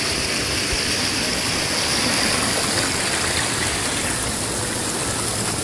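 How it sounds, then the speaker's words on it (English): Water pours continuously down Guns River Falls on a Jamaican river. The loud, broad rushing roar stays steady and close throughout, with no voices over it. "Beautiful fall. Guns River Falls, guys."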